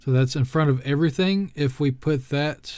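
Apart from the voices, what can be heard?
None of the usual background noises is heard.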